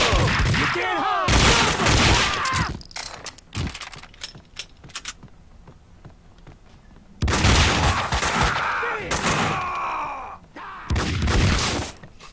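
Gunfire in the video game Max Payne 2 comes in loud bursts of rapid shots, with quieter gaps between volleys and shots cracking close by.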